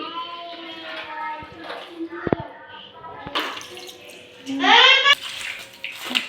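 Water splashes and runs as a greasy gas stove is rinsed clean after washing with shampoo, while a voice talks over it nearby.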